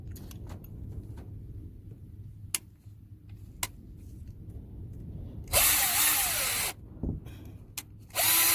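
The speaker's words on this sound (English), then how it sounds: "We'll go ahead and drill the hole for the other side." A power drill boring a hole while building a sliding stove stand for a van: quiet clicks and taps at first, then a loud steady drill whine runs for a second or so, with another burst starting right at the end.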